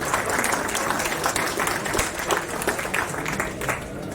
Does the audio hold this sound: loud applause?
yes